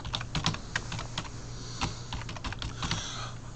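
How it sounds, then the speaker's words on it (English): Someone types a long password on a computer keyboard, tapping the keys quickly and irregularly at close range. A faint steady hum sits underneath the keystrokes. "You notice it's a long password that I'm typing?"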